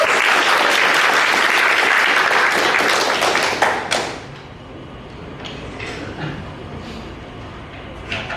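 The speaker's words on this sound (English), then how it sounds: "let's give him a round of applause." Audience applause at a lo-fi mixtape premiere night, a dense loud burst of clapping for about four seconds that suddenly drops to sparse, scattered claps and room murmur.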